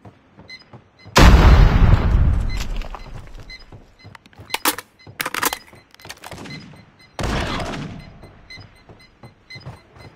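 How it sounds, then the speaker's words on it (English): A grenade blast in Call of Duty: Mobile during a 3v3 sniper fight in a cage map, a loud booming burst that decays over about two seconds, followed by scattered sharp gunshots and another heavy impact. "Grenade out!"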